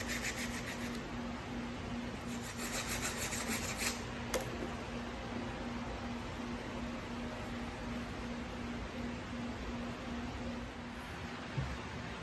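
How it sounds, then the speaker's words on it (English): Quiet, steady rasping of sandpaper wrapped on a piece of wood, rubbing on a wooden laptop stand part to adjust its fit, continuous and close, over a faint electrical hum. "just using a piece of wood with some sandpaper on it"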